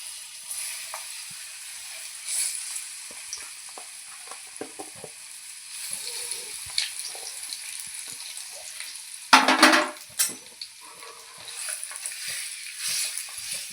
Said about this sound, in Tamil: இந்த பேனில் ஹீட் ஆக்கிட்டு பேரிச்சம்பழத்தை போடலாம்.